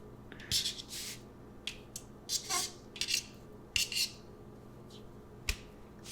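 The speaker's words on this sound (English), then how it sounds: "Start chopping." Bananas are chopped with a knife for banana pudding, making a string of crisp, irregular cuts and taps, close and quiet, with no voices.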